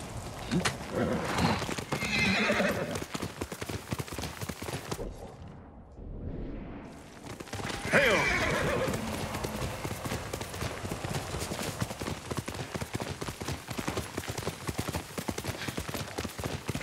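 A horse in the video game Ghost of Tsushima trots with continuous rapid clip-clopping hooves and gives loud whinnies, with a brief lull midway before the galloping resumes under dense game ambience.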